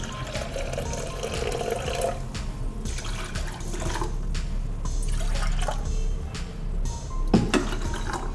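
Water, about one and a quarter cups, is poured over jaggery in a pan for a Chettinad sweet, giving close splashing and dripping sounds with a few sharp knocks.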